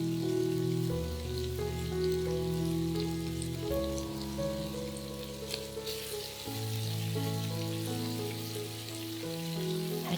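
Celery and dried tofu stir-fried in a hot wok give a steady, close sizzle and crackle that runs the whole time beneath continuous background music.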